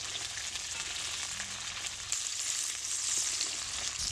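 Green chillies sizzle steadily in hot oil off the heat, a continuous bright frying hiss with faint stirring scrapes, close and alone with no voices.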